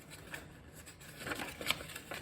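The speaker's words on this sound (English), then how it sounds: "So I'm just gonna trim that out with some scissors." Scissors trim around a printed vintage advert, making soft paper snips and rustles in a loose, irregular rhythm, close and quiet, with a few sharper cuts near the end.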